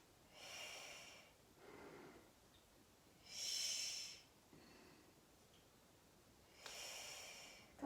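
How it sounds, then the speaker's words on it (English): Slow yoga breathing comes through as a series of about five separate breaths, the exhales airy and close, each swelling and fading with quiet gaps between them. "exhale down"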